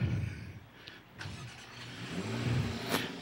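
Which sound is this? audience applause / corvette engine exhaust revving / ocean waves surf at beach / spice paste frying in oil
corvette engine exhaust revving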